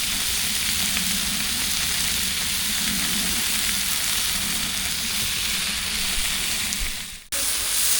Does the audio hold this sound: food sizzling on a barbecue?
yes